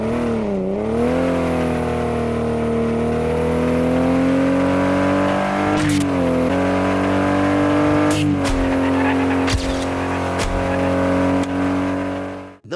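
A car engine in Horizon Driving Simulator holds a loud, steady revving drone with slight pitch shifts, broken by a few sharp clicks and knocks near the end as it drives on alone.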